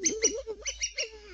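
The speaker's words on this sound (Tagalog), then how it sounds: "Ibon na to eh." Rapid, high-pitched chirps from a small bird repeat in quick succession, close and fairly clear, with a brief quiet stretch near the end.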